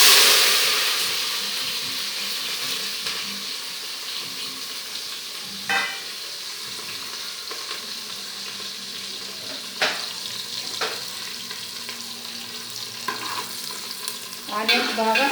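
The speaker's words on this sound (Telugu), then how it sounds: "ఆనియన్స్ బాగా ఫ్రై అవ్వాలి" Onions fry in oil with cloves and cardamom for chicken biryani, a steady close sizzle with a few sharp clinks and stirring scrapes over the hiss and no voices.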